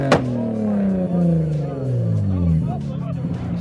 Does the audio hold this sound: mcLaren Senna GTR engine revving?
yes